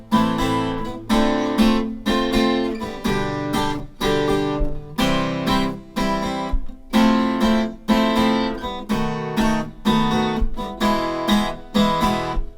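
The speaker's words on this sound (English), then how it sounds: "So the strumming pattern I'm using for the rest of the song" An acoustic guitar strums chords in a steady repeating down-down-down-up rhythm, close and clear with no voices.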